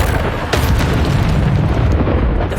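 A Bombarda explosion spell cast in the video game Hogwarts Legacy, a heavy, loud, rolling boom with a sharp burst near the start and a sustained roar afterward.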